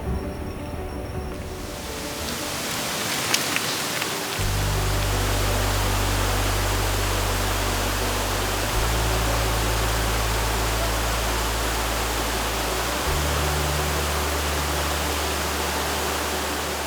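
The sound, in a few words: rain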